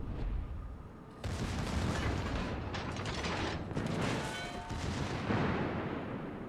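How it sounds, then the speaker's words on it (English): Warship guns fire a heavy salvo in World of Warships: a sudden loud roar of booming shots, followed by rumbling, mechanical clatter and more dull blasts. "It's a nice 20k salvo there."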